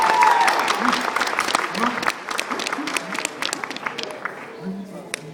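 Audience applause for volunteers called up to join a dance, a steady wash of clapping that thins out, with a voice calling out over it.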